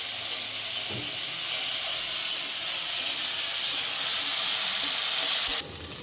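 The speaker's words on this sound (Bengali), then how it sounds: "এই দেখো আলুটা মোটামুটি ভেজে নিয়েছি" Potatoes fry in a pan with a loud, steady close-up sizzle and faint regular ticks throughout, dropping off abruptly just before the end.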